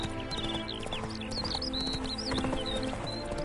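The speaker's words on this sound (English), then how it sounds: "Spooking my horse. Roach doesn't like ghosts." Roach, a horse in The Witcher, spooked: a steady clatter of hooves with snorting and agitated horse sounds, birds chirping in the background, close and continuous.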